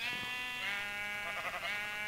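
A sheep in a survival video game gives a sustained, nasal, wavering bleat, steady and up close against a faint game background.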